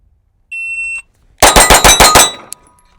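A Kimber 2K11 Pro Comp pistol fires six rapid, loud shots in a quick string. A shot timer beep comes before them, and a faint metallic ping follows.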